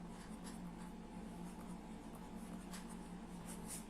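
A pen scratches out an answer during a Hindi-medium class 6 maths lesson, producing soft, close strokes in a steady run against a low background hum, with no voices.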